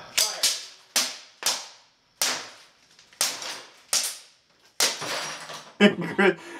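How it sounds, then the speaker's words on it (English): A handgun fired repeatedly until empty and then dry fired, a string of sharp, loud cracks at irregular intervals, each ringing out with a decaying echo, followed by quicker, lighter clicking bursts at the end. "fired his gun until it was empty, and then he kept dry firing"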